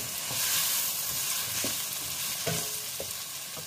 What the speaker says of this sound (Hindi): तो पहले मैं इनको फ्राई कर लूँगी।